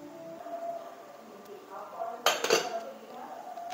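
An idli steamer lid comes off with a sharp metallic clatter of pots and lids, a short cluster of clinks and scrapes in a quiet kitchen, with a faint hum around it.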